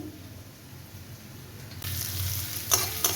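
Sliced onions frying in a pan for a chicken dish, a soft hiss that swells louder about halfway through, with a couple of brief scraping stirs near the end.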